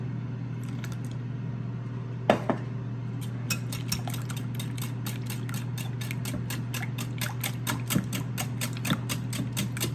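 Milk and Swiss cheese being stirred for cheesy potatoes, a steady run of light, fast ticking clinks of a spoon against the bowl over a constant low appliance hum, with no talking.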